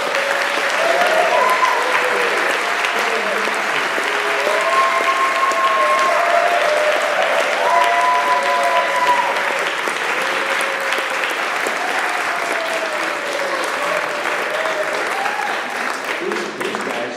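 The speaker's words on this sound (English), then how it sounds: "So how about a nice round of applause for our accompanist for this evening?" A theater audience claps steadily for drummer Darrell Voss at a jazz piano showcase. The applause is full and sustained throughout, with no break, and a few scattered whistles or cheers rise above it.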